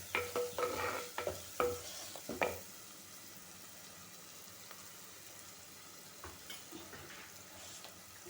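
Malvani masala with a pinch of sugar is stirred and sautéed in a pan, with a few quick scraping stirs and a soft sizzle at first, then a quiet low simmer continues.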